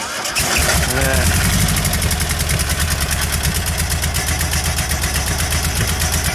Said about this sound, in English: And how to start a Beetle